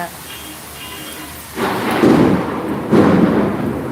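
Heavy rain during a thunderstorm in a Tamil village, with a steady downpour hiss under two loud, rolling thunderclaps close by, the second following about a second after the first fades.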